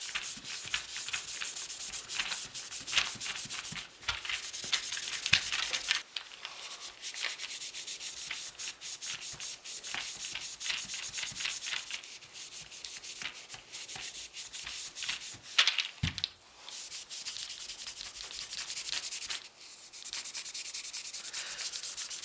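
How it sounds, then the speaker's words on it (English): A medium-coarse Scotch-Brite pad scuffs across the plastic surface of a Beta C-Mag drum magazine, giving steady, close rasping strokes in a continuous rhythm with brief pauses and no talking. "I'm just going to start going over the entire surface area of the magazine"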